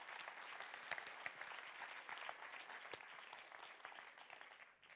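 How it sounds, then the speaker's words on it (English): Conference audience applauds the social partners after a discussion, a quiet, far-off patter of many hands clapping with a few crisper claps standing out, fading away at the very end. "A round of applause for all the social partners for their discussion."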